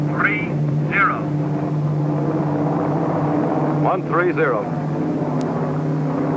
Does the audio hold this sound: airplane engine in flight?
yes